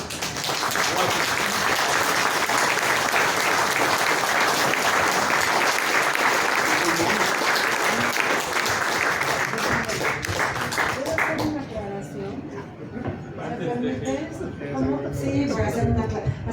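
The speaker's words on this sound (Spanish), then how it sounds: "Yo termino pidiendo un aplauso para él porque es grandioso" Audience applause at a book presentation in Mexico, a loud dense burst of clapping that carries for about eleven seconds before fading into scattered claps under a man's speech.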